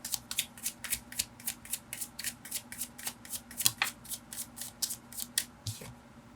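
Tarot cards shuffled by hand in a steady, rapid riffle of crisp flicking bursts, close and fairly quiet, alone without talk.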